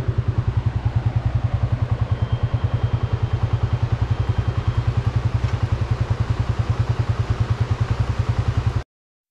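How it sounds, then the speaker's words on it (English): A motorcycle crossing a dangerous bridge in a Pakistani village: a steady, loud engine thrum with a fast regular pulse runs throughout, close and unbroken until it stops abruptly near the end. "Look at that motorcycle is coming on that dangerous bridge."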